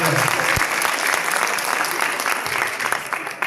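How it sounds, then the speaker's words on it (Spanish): Audience applause after a book presentation, a dense steady wash of many hands clapping close and loud for the full stretch, with a few sharper claps standing out and no voices over it. "Ahora sí, un aplauso para todos ustedes."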